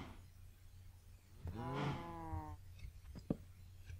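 A Minecraft cow gives a single drawn-out moo in the middle, fairly clear over a low steady hum, followed by a sharp click near the end.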